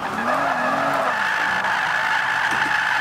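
A 2014 Rolls-Royce Wraith drift build in Forza 5, climbing a hill in fifth gear. The engine drones loudly and without a break under a constant, high screech of sliding tires.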